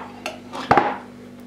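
A spoon spreading mustard over pie dough, a couple of soft scraping clinks of the spoon against the dish, close up and brief, no talking.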